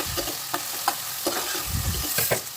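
Sliced onions being stirred into hot oil in a pressure cooker for chicken curry, giving a steady sizzle broken by regular scraping strokes of a spoon, close and without talk.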